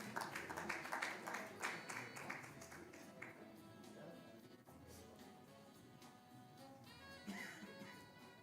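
Audience applause at a gender equality signing ceremony, a quiet patter of scattered clapping that fades under a voice and some background music.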